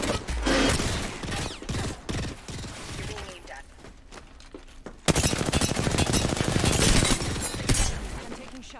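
Bursts of automatic weapon fire in an online shooter match, loud and close, with scattered shots and mechanical clatter early on, then a heavy sustained stream of rapid fire after a sharp onset midway.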